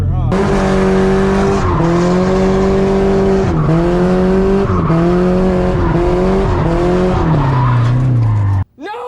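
Nissan S14 drifting and spinning out, its engine droning loud and close in rising and falling harmonic sweeps mixed with tire skid noise, cutting off abruptly near the end.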